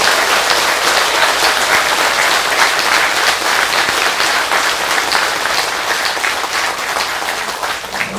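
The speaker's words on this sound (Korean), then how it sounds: "다시 한번 큰 박수 한번 부탁드립니다" An audience at a Buddhist dharma talk, during a New Year all-night meditation session at a Korean Seon temple, claps in loud, dense, steady applause that carries on throughout and fades slightly at the end.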